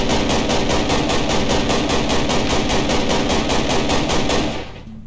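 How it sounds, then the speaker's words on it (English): Rapid automatic fire from an AK-105 rifle in the Minecraft Additional Gun Mod: a loud, sustained burst of evenly spaced shots lasting over four seconds, then cutting off with a short decaying tail. "AK-105. It is loud as hell,"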